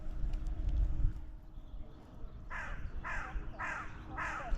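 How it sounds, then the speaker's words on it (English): Large crows fighting near a fishing lake, giving four loud harsh caws in a steady rhythm after a stretch of low outdoor rumble and faint background noise. "seem to have massive crows down here that are like fighting each other"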